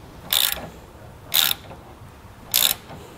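Three short, loud ratcheting bursts, evenly spaced, come from a ratchet tightening the cable connections at a circuit breaker while a Tekonsha Prodigy P3 trailer brake controller is installed in a 2014 Toyota.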